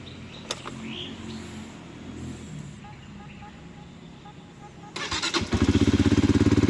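A Flash 150 motorcycle on its dirty stock exhaust pipe fires up after a stretch of low background hum, then settles into a loud, steady, rapid throbbing idle close by.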